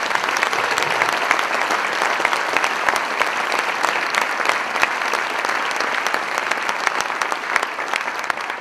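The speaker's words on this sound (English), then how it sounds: "absolute quiet, except for the thunderous applause" Thunderous applause from a conference audience greeting a speaker at UXCamp Ottawa, a dense steady wash of many hands clapping at even loudness throughout, with no voices over it.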